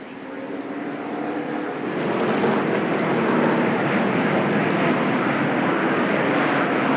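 A NASCAR Cup car's engine fires up at the 2001 Chevy Monte Carlo 400 after crash damage, a broad engine roar that swells after a couple of seconds and holds steady beneath other track noise.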